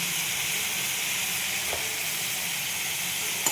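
Hot oil sizzles steadily as a pinch of asafoetida goes into the pan, a bright continuous hiss at even loudness with no talking over it.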